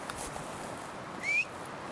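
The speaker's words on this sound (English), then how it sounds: "Oh, I heard a whistle." A single short, rising whistle sounds briefly against quiet outdoor ambience.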